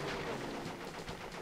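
Rapid gunfire from shooting down bombers in Crash Bandicoot 3: Warped, a dense, continuous burst of game shots and explosions filling the whole moment at steady loudness.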